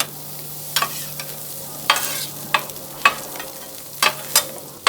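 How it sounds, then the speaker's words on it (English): Brisket, cream cheese and jalapeños stirred together on an oiled griddle, with a steady sizzle under repeated scraping and tapping of a spatula against the hot metal surface, close and fairly clear. "Now let's mix them all together."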